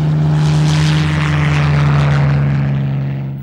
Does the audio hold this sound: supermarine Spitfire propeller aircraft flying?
yes